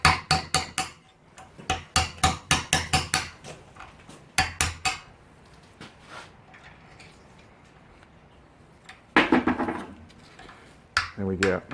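Sharp metallic hammer taps on a steel punch, driving out the caps of a universal joint during a full strip-down; bursts of several quick, ringing strikes repeat close up, with someone talking between them.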